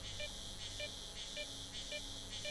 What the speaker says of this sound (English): With an increasingly annoying beep incoming.